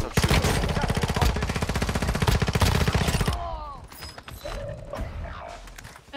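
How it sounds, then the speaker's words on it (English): Rapid automatic gunfire from a mobile shooter game (Warzone Mobile or CODM) rattles loud and steady for about three seconds, then cuts off, leaving scattered mechanical clicks and faint game effects. "I literally was just shooting and then I just stopped shooting as soon as I switched my gun."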